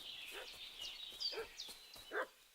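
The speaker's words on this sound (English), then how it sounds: "What's that dog making such a fuss about?" A dog in the medieval game Kingdom Come: Deliverance 2 barking several times at a distance, sharp repeated woofs over a faint whining background.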